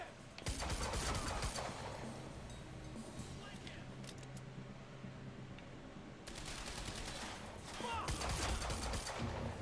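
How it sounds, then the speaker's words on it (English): Pistol gunfire in the Quantum Break video game crackles in dense, rapid bursts, loud and close, with overlapping shots and a short lull in the middle before the firing picks up again. "The pistol hits pretty hard."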